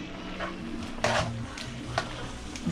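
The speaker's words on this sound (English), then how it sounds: "Now we give it a stir." A spoon stirs pepper steak with olives in a pot, making a few soft scrapes and light clinks against the pot over a steady background hum, close but fairly quiet.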